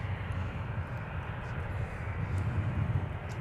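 Gridiron Air Boeing 777 on the move at MSP airport, a steady low jet-engine rumble with constant broadband roar, moderately distant and unbroken throughout.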